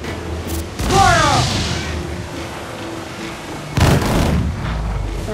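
Ship cannons in Assassin's Creed 4 Black Flag fire in two heavy booming blasts a few seconds apart, with shouting voices between and under them.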